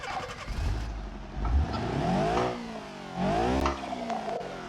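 A turbocharged, home-tuned car engine in BeamNG.drive revs up to around 8000 rpm, surging in several loud blips that climb and fall in pitch, close and alone without speech.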